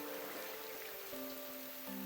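Heavy rain in the video game Explorations - Deluvian Winds makes a faint, steady patter that hovers quietly under a soft held musical tone, continuous and even throughout without voices.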